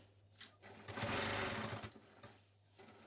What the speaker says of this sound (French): Je n'oublie pas les points d'arrêt au début et à la fin. Je m'assure que je prends bien toutes les épaisseurs.